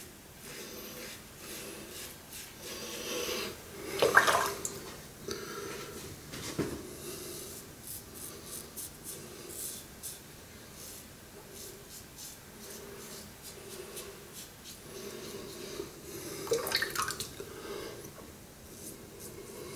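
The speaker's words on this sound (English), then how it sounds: "That the blade is cutting your whiskers really good." A Razorock Baby Smooth safety razor blade rasps through whiskers in close, soft scraping strokes, with a couple of louder passes standing out against the quiet background.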